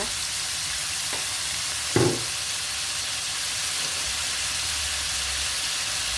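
Light soy sauce poured into a sizzling Thai stir-fry in a hot pan, giving one brief splashing sizzle burst over a steady low frying hiss, close and fairly quiet, with no talk.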